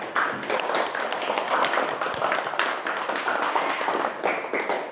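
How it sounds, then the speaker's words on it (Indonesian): A classroom of students claps together after finishing a project, a fairly dense, uneven patter of hand claps sustained throughout with no talk. "Tepuk tangan buat kalian semua"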